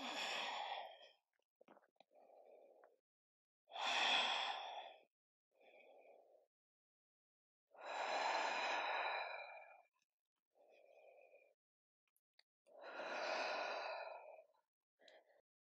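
Slow, deep breathing during a legs and glutes yoga stretch: four long, audible inhale and exhale cycles, close and soft, with quiet pauses and no talking.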